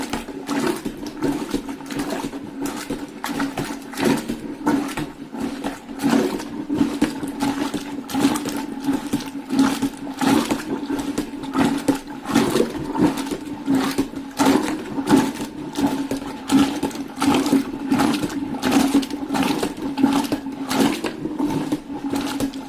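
Buttermilk being churned to make butter, a steady rhythmic sloshing and whirring that repeats in quick pulses for the whole stretch at moderate loudness.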